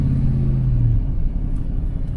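A low, steady engine rumble from an older truck idling cold in winter, close by, with a deep droning tone that fades after the first second into a rougher, even throb.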